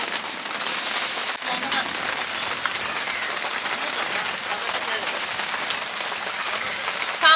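Steady rain pours down on a surface, a dense continuous hiss with scattered droplet taps, no voices.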